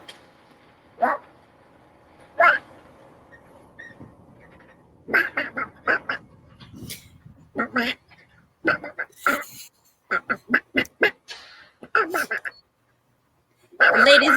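A person imitates duck quacks in a string of nasal, bursty calls, some single and some in quick runs, loud and close with short pauses between.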